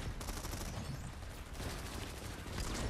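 Rapid sniper rifle gunfire in the video game Planetside 2, a dense, loud stretch of overlapping shots and bursts filling the whole moment without speech.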